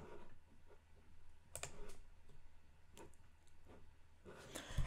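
Computer keyboard typing while entering terminal commands, a few soft scattered key clicks in short bursts, faint and close, with no talking.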